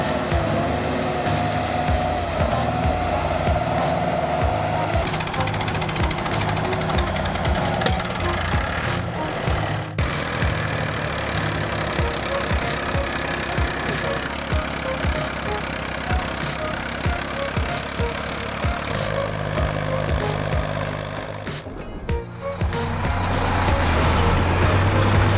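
Tractor engines straining together in deep mud to pull free a stuck tractor and its heavy towing equipment, a continuous loud rumbling roar that holds steady for the whole stretch with a brief dip near the end.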